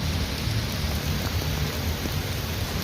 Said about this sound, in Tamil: ரொம்ப நல்லா மழை பெஞ்சிட்ருக்கு.